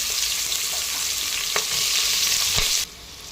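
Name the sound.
onion sautéing with whole spices in a pan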